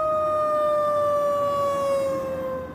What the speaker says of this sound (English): Sirens in the morning may be shocking